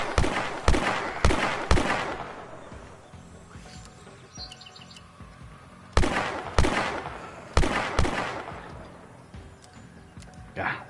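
A grenade launcher fires in the video game The Last Stand: Aftermath. Sharp, booming shots come in two quick volleys of about three or four blasts each, and each one rings out and fades between hits.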